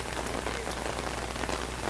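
Steady rain falls at an outdoor police investigation scene in North Austin, a dense, even patter of drops on surfaces filling the whole stretch with no voices.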